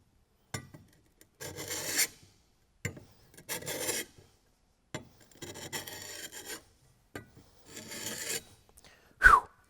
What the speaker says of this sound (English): What I would like to do is dull this chisel and show you how it performs.